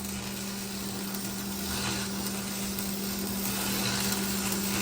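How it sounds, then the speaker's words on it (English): An old stick welder used as a cutting torch on a car frame gives a continuous loud crackling hiss with a steady electrical hum underneath, unbroken throughout and with no talking. "We're using the old stick welder as a torch."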